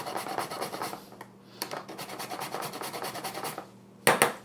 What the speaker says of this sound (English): So you just grate a little bit of the nutmeg.